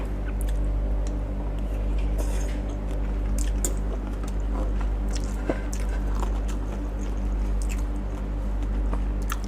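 Chewing on spicy, sour Thai green mango salad (tam mamuang), close and steady, with soft wet squishes and bites over a constant low hum.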